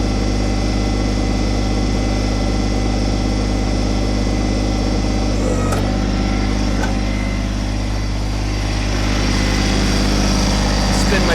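A Kubota BT602 backhoe's diesel engine runs steadily and close, with a strong low drone, while the hoe is lowered and the outriggers lifted, adding faint hydraulic whine and a few clunks midway.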